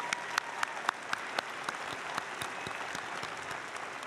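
Audience at a university commencement ceremony applauds in a steady, fairly distant wash of clapping, with some individual claps standing out.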